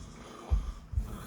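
Person snoring quietly indoors, two soft low snorting breaths about half a second apart, faint and close.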